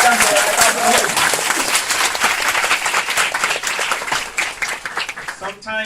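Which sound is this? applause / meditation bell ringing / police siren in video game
applause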